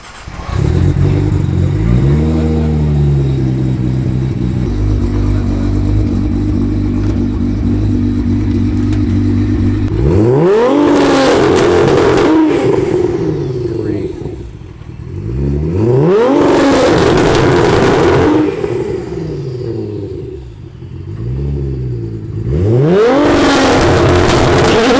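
A fully built 1700 HP Nissan GT-R engine rumbles loudly at a steady idle, then is blipped through three sharp revs that climb and fall back, each burst loud and close with no talking over it.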